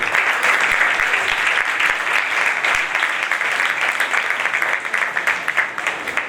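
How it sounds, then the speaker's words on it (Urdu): A church congregation at the first anniversary of Pakistan Assemblies of God Church in Malir, Karachi, applauds loudly for a couple. The dense, sustained clapping fills the whole stretch without pause. "ان دونوں کے لیے زوردار تالیاں بجائیے۔"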